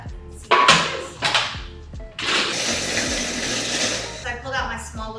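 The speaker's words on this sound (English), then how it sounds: "I pulled out my small little Cuisinart mixer because the other one is quite big for the amount of ingredients" Small Cuisinart mixer whirring through oats and brown sugar in short bursts, then a longer steady blend that trails off near the end, loud and close with no talking.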